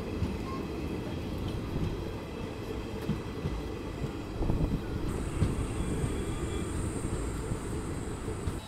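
An Indian Railways special train pulls into Sidhauli station with a steady, heavy rumble of rolling wagons and faint clicking over the rails, loud and close, and a high tone joins partway through.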